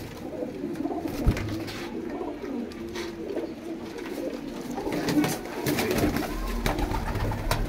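Pigeons coo softly and repeatedly nearby over a low, steady background murmur, in Faisalabad.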